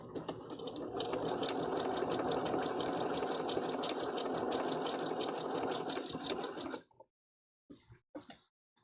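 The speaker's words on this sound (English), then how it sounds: "So you just stitch a little bit, then lift the foot up and readjust." Domestic sewing machine stitching fabric for a One Piece Big Mom Jolly Roger cosplay, a rapid steady needle rattle running continuously for several seconds close up, then stopping, followed by a few brief faint handling clicks.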